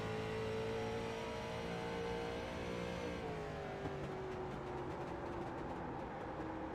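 A race car engine in the iRacing sim at Tsukuba, held high in fourth gear, drones steadily with a strong harmonic whine that shifts pitch partway through, loud and continuous with no talk.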